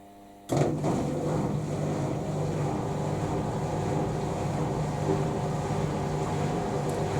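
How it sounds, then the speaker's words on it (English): A Zanussi Lindo 1000 washer dryer's drying fan runs with a steady, droning hum and low mechanical rumble, starting abruptly and running continuously at constant loudness. "Dryer fan on. And heating element."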